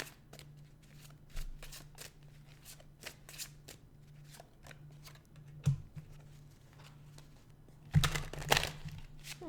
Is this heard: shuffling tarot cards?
yes